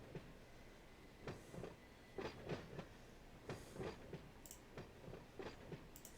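A unit train rolls along in Run 8 Train Simulator, with rhythmic clickety-clack wheel beats over rail joints repeating steadily under a low rumble, moderately quiet with no voices.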